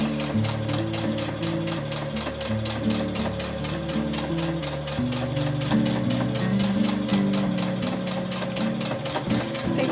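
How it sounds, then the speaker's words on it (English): A sewing machine stitches over the edge of a patchwork blanket, its needle chattering in a fast, steady mechanical rhythm, close and continuous with no talking. "just to sew over the edge"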